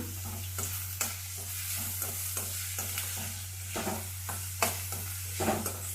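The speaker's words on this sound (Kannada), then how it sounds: "ಸ್ವಲ್ಪ ಕೆಂಪಾಗಲಿ ಬ್ರೌನ್ ಕಲರ್ ಬರೋವರೆಗೂ ಸ್ವಲ್ಪ ಹಿಂಗೆ ರೋಸ್ಟ್ ಮಾಡ್ಕೊಳ್ಳೋಣ" Onion and crushed garlic frying in a pan, a steady close sizzle broken by repeated scraping stirs of a spatula, with a low constant hum underneath; no talking.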